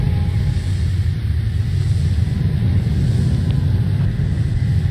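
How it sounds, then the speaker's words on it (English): A car engine in the video game Sylvio rumbles steadily and loudly at a low pitch throughout, a continuous revving drone with no talk over it. "we gotta rev up that engine"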